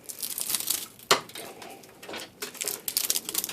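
Insulation being peeled and torn off copper wire during stripping, giving a run of crinkly, tearing crackles with one sharp snap partway through, close and fairly loud with no talk.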